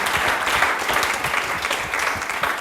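Audience applause at a live stage show of Christian devotional song, steady dense clapping from a crowd filling the space continuously for a few seconds with no speech over it.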